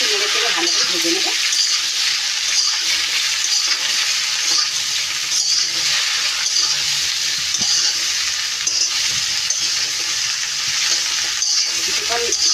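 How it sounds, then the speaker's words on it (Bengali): Mixed vegetables and green chillies stir-frying in a hot pan give a loud, constant sizzle, with the scrape and rustle of stirring running steadily through it. "সবজিগুলো দেওয়ার পরে আমি এখন একটু নেড়ে চেড়ে ভালো করে ভেজে নেবো।"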